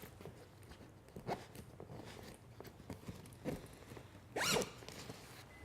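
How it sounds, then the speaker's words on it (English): Several quick zipper pulls on a 45-litre travel backpack, a couple soft and one louder, rasping zip near the end, amid light handling rustle. "I'm going to move my zippers to the top for both the back access and the front access."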